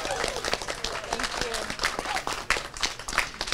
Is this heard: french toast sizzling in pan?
no